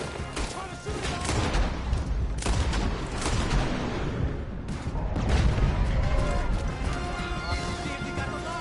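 Gunfire during a road chase in the Western video game Red Dead Redemption 2, dense overlapping shots and crashes under game music and hoofbeats, loud and nearly continuous, with some voices.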